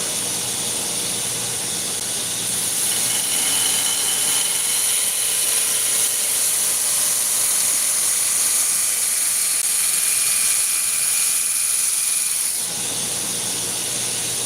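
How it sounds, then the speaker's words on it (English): A workshop air compressor running steadily, with a loud continuous hiss and mechanical drone that holds constant throughout, shifting slightly near the end, with no talking. "the compressor was left on"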